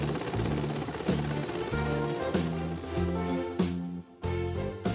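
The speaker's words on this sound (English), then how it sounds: "The anti-submarine helicopter goes into service in 1974." A Mil Mi-14 anti-submarine helicopter, its rotor beating in a steady rhythmic chop with a turbine hum beneath, moderately loud and heard alone.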